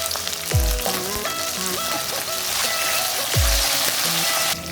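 Curry leaves dropped into hot oil over a high gas flame while making rava dhokla, giving a loud, close sizzling and crackling that bursts up sharply twice and then settles into a steady fry, with no talking.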